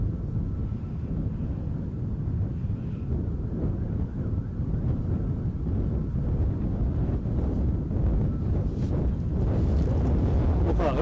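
Gusty wind at Edinburgh airport rumbles and buffets the microphone in low, uneven surges that rise and fall, with faint background noise and no clear voices.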